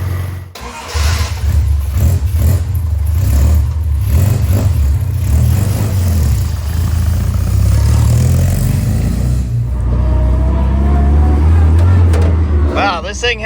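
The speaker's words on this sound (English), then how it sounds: "All right, let's test it out. It sounds pretty good." A newly installed engine in a Sprite car runs loud and close, droning steadily and rising as the car pulls off and drives, with someone talking over it.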